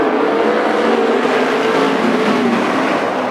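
Several sprint race cars roar together at full throttle on a speedway oval at a green flag start of a heat race, a loud continuous dense engine howl without pauses.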